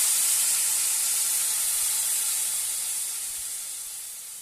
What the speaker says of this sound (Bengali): এটা হালকা ভাজা হয়ে গেলে আমি এর মধ্যে ভাতের ফ্যানটা